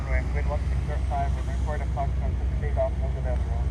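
A plane's engines at Honolulu airport give a low, steady rumble far in the background while someone talks continuously over it.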